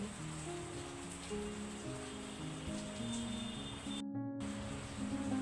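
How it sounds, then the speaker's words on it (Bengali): Steady rain falls outside a home during a morning storm that followed strong wind, a constant broadband hiss throughout with tonal hum and background sounds layered beneath it. "বাহিরে বৃষ্টি হইতেছে"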